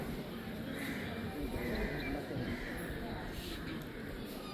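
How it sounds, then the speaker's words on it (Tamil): Horses stand among a crowd at the Nallur temple festival, with faint hoof clatter and movement under a constant outdoor crowd murmur and someone talking throughout. "பெரிய குதிரை ஒன்று நிற்குது முன்னுக்கு."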